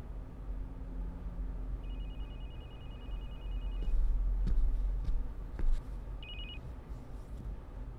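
A telephone rings in a quiet indoor room, its electronic trill sounding in one long burst and then a short second burst, with faint background noise and a few soft knocks.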